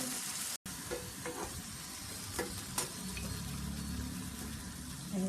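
Ground masala paste for a pattani (green pea) masala fries in a pan with onion and tomato, a steady close sizzle with occasional scrapes and knocks of a spoon stirring it, no voices.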